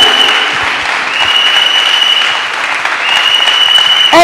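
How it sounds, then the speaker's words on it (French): Church congregation applauding during a service, a loud, dense and sustained clapping from a large crowd that fills the whole stretch without letup. "Oh, Bobouye, acclame bien."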